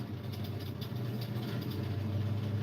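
A car engine idles high and steady with the gearbox in first gear, a continuous low rumble close by with no talk over it.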